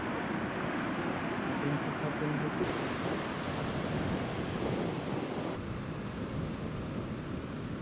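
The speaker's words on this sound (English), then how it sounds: "the wild, 600 kilometers long west coast, pounded by the Tasman Sea" Heavy Tasman Sea surf pounds the wild west coast of New Zealand, a continuous roaring wash of breaking waves mixed with wind buffeting the microphone, steady and fairly distant.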